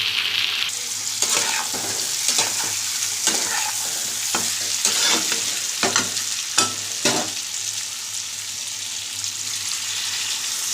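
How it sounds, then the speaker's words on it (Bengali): Eggs and potatoes are stirred in a sizzling curry pan, with repeated scraping strokes of the spoon over a constant close frying hiss. "ডিম দিয়ে আমি খানিকক্ষণ নাড়িয়ে জল ঢেলে দেবো"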